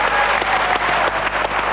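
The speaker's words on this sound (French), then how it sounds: "Allez, on applaudit tout." A game show audience on a 1995 Wheel of Fortune broadcast claps together, loud sustained applause with a crisp, slightly uneven rhythm of many hands close by.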